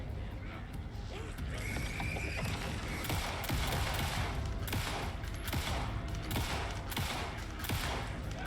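Sustained, dense gunfire in Alan Wake 2's Lake House DLC, many bullets rattling off in rapid bursts over eight seconds, loud and continuous with mechanical clatter mixed in.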